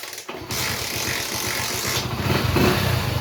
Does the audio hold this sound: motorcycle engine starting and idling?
yes